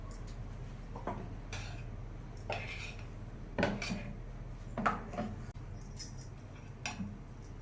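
A dosa pan is set down on a kitchen stove with several light metallic clanks and scrapes, spaced apart and fairly close, over a low steady background hum.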